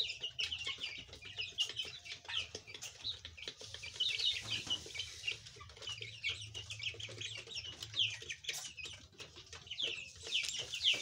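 Young chicks with feathers coming in cheep and chirp busily in a home chicken coop, a dense, continuous chorus of high peeps with occasional clucks, close and fairly loud throughout, with no talking.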